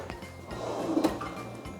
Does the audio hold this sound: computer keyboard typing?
no